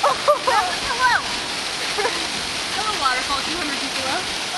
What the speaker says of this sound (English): waterfall, 200 feet below